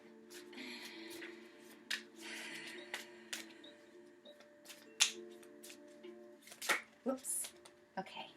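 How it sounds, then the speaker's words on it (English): A deck of divination cards being shuffled by hand, with soft, scattered riffles, taps and slaps heard close and quiet, broken by brief pauses and a few sharper clicks. "Now I'm just going to shuffle my deck here for a moment."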